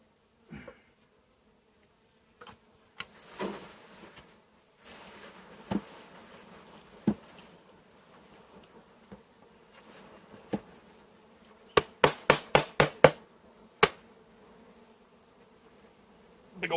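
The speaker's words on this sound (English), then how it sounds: "Big old balls of bees." Honeybees from a package being installed into a hive, a soft scattered buzz with a few sharper bursts as bees are shaken and moved, mostly faint with short louder spikes near the end.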